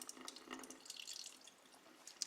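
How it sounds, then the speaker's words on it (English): Water draining off rinsed rice tipped in a bowl, heard as quiet, irregular splashing and dripping that trickles on and off, with a small splash near the end. "So that the rice sits in the back of the bowl and the water drains off the front of"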